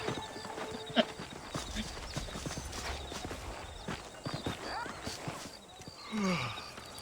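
Horse hooves clip-clop in the Western video game Red Dead Redemption, a steady run of hoofbeats under game music and ambient noise, with a whinny-like sweep near the end.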